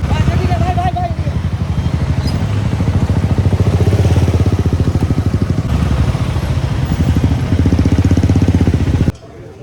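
A motorcycle engine runs close by at a steady low throb while the bike is parked at the Kolkata Biking Festival, then cuts off abruptly near the end.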